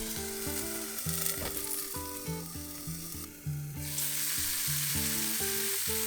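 Starch-dusted food pan-frying in olive oil gives a steady sizzle, heard alone under a rhythmic mechanical ticking and clicking pattern.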